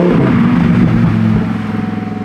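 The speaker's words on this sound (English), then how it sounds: "that's a V10!" A V10 supercar drives past at close range, its loud, throaty engine note rising and then dropping away as it goes by, with a pulsing rumble trailing off at the end.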